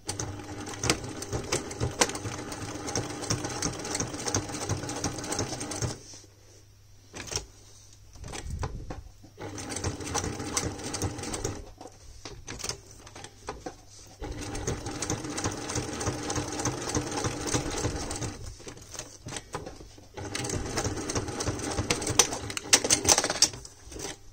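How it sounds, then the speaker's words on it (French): Sewing machine stitching around a velcro (hook-and-loop) strip on a flap, running in rapid mechanical bursts separated by brief pauses and quiet handling, close and fairly soft, no voices. "tu viens coudre, faire le tour de ton scratch"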